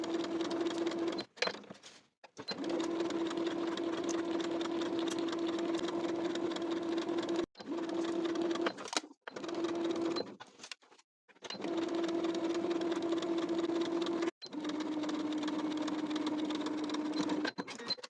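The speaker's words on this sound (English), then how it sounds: "Now we can sew from the top of the side seam around the pocket, then continuing down the remainder of the side seam to the bottom of the pant" A sewing machine stitches the side seam of pleated pants, its close, steady mechanical hum running in long bursts with short pauses between them.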